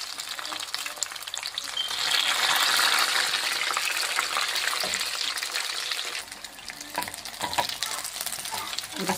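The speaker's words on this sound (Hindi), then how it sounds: "बहुत जल्दी ये फ्राई होती हैं ड्रम स्टिक्स बहुत ज़्यादा" Pre-cooked chicken drumsticks frying in oil produce a loud, close, continuous sizzle that swells and then eases slightly, with occasional stirring clinks.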